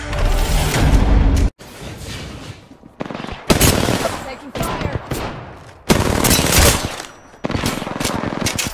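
Rapid gunfire bursts crackle through a video game arena match, several loud volleys broken by short pauses, with a voice calling out between them.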